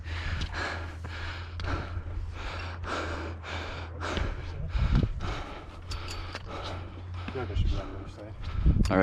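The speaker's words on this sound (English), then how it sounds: "The GoPro is just gonna hear me panting the entire time." A hiker on the Angels Landing trail in Zion National Park pants heavily and rhythmically, captured close on a GoPro, with steady breathy bursts through the whole stretch.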